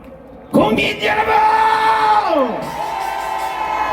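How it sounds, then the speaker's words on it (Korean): Rally crowd at an Easter joint worship national gathering erupts in loud cheering and whooping, with sustained shouted voices swelling together and holding strong before easing slightly. "우리 한균성 자문님께도 따뜻한 박수를 보내주시기 바랍니다"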